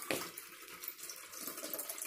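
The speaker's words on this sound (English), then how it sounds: "You can put more water in the jar" Water pours into a glass jar in a gentle, steady trickle, quiet and close, with small splashing and no talking.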